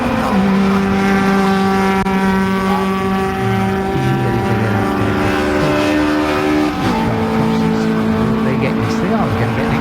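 Race cars at Snetterton circuit crossing the start-finish line at the end of a BRSCC race, their engine tones droning steadily throughout with pitch shifts as cars pass, under continuous live commentary.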